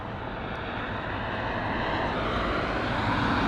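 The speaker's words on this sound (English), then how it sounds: "This is one of the jets that should taxi right in front of us" A jet airliner taxiing at London Heathrow gives a steady, broad engine roar that slowly grows a little louder, close by, with no voices.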